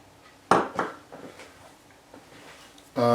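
A spoon stirs flour, powdered milk, salt and other dry ingredients in a very large mixing bowl, giving a few scraping clinks against the bowl and ending with a louder knock.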